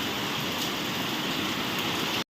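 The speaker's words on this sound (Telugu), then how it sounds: "ఫుల్ వర్షం అయితే పడుతుంది ఫ్రెండ్స్" Heavy rain falls at night in a steady, dense hiss that stays even and fairly close, with no voices, before cutting off abruptly at the end.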